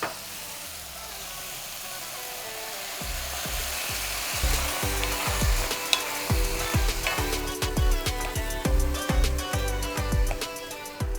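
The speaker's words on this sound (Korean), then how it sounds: "준비해놓은 양념장을 다 부으면 팬 바닥에 붙어있던 찌꺼기들이 데글레이징 되면서 자연스럽게 떨어져 나올 거예요" Seasoning sauce poured into a hot pan with chicken, potatoes and carrots for Korean braised chicken, a loud hissing rush that turns into rhythmic scraping and clattering as the pan bottom is deglazed and stirred.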